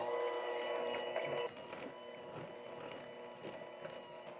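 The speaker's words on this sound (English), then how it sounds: "I'm bringing my electric hand mixer over" An electric hand mixer beats cake mix batter for a German chocolate poke cake, giving a steady whirring motor whine with a rough grinding edge that drops slightly in pitch and loudness partway through.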